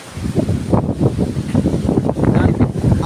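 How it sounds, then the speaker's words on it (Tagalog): Rough, churning sea waves roll in on a cold, blustery coast, with steady wind rushing across the microphone in a continuous broadband roar close by. "Tingnan natin yung dagat. Sobrang nagwawala yung alon, no?"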